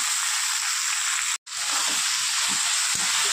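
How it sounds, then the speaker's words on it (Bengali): Pieces of ridge gourd fry in a pan with a loud, even hiss of sizzling, briefly cut off midway and then resuming with faint scrapes and taps underneath. "চলুন ঝিঙেটা ভেজে নিই"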